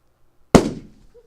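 A balloon bursting during a classroom-style demonstration: one sharp, loud pop from near silence, then a short decaying rustle of the burst.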